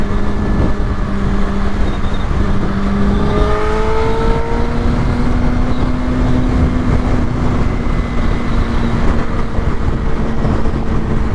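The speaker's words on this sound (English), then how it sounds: "The third thing I really like about this motorcycle is how smooth the engine is at low speed." A Suzuki GSX-R600 motorcycle engine runs steadily at low speed, a close, continuous drone with smooth pitch shifts as the revs rise slightly and settle, with no voices.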